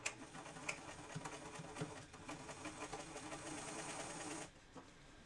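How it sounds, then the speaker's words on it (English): A sewing machine runs steadily as it stitches two skirt seams together for a Wicked Witch costume, a continuous close mechanical whir with a few faint clicks that stops abruptly near the end, leaving quiet room tone. "And now sewing those two seams together on the sewing machine."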